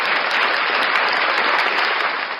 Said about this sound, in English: let me put my little applause button because I do got some little sounds